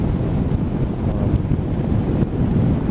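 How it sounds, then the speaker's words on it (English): Steady, loud wind buffeting a microphone while riding a motorcycle, a continuous low roaring rumble with gusty surges throughout and nothing else standing out. "It's windy out today otherwise, you know, kind of blowing the bike around"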